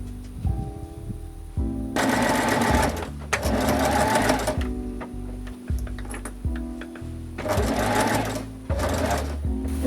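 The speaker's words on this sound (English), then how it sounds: "pin the rest of the ruffle to the corset. Then sew all the way down." Sewing machine stitching a ruffle onto a corset top, rapid close mechanical stitching in several bursts of a second or two, separated by brief pauses with soft ticking and handling clicks.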